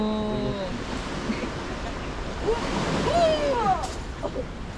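Sea waves wash steadily onto a rocky shore at Taean on Korea's west coast, a continuous broad surf rush with wind, while a voice exclaims and people chatter faintly in the background.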